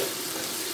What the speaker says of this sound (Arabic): البصله خلاص قربت تحمر اهي